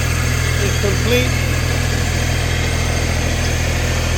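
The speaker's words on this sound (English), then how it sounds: "Lot number 133 is a Hustler diesel zero-turn mower." A 2005 Hustler Excel Super Z 72-inch zero-turn mower with a Caterpillar diesel engine runs steadily, a constant low engine drone close by with no break in level.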